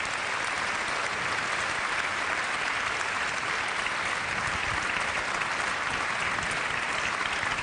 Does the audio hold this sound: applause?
yes